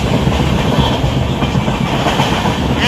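Passenger train rolling along, heard from inside the carriage by a window seat: a loud, steady rumble with rhythmic clickety-clack of the wheels running throughout, no talk.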